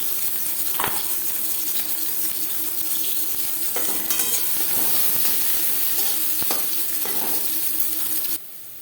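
Chopped onion frying in hot oil in a kadai: a loud, continuous close sizzle with occasional spatula scrapes and clinks against the pan, with no voices.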